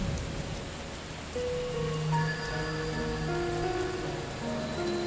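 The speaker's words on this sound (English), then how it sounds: "now I can switch off the rain" Steady rain falling in the video game Xing: The Land Beyond, a constant hiss of drops with soft tonal music notes drifting over it, no voices.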